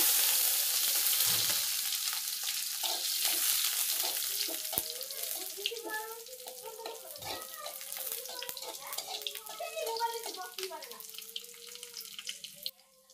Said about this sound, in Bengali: এখন রসুনটি দিয়ে নিব, রসুনটি ভাজে নিব।